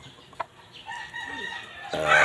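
A small chicken crows in the distance, a short thin call rising near the end, with faint background noise before it.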